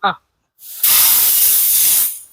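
A brief voice, a pause, then a loud, steady hiss and sizzle of horse gram hitting a hot pan to roast, lasting over a second before fading.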